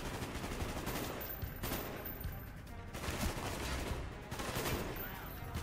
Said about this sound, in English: He's doing covering fire.